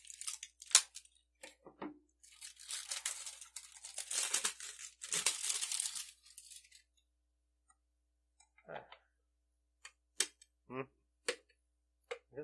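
Butter dish packaging is cut open and unwrapped, with long stretches of crinkling, crackling plastic close by, then scattered short rustles and clicks after a pause.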